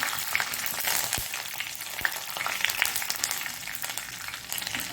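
Mustard seeds and curry leaves hit hot oil, giving a dense close sizzle with scattered sharp pops and crackles and no talking.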